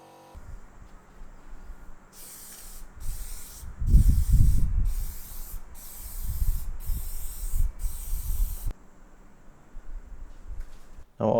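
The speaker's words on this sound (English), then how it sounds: "The parts were then painted, mainly for rust protection and a little bit for the looks." Spray can hissing in several short bursts of one to two seconds each as metal parts for a homemade hydraulic shop press get a coat of rust-protective paint, with soft rubbing and handling noises under the bursts.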